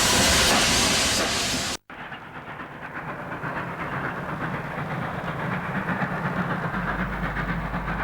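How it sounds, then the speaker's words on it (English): A steam locomotive hauls a train in New South Wales in the 1960s, with a loud steady rush of steam and rolling rail noise after a brief cut, continuing throughout with no talk. "The final steam-hauled Riverina Express in June 1964 is also included."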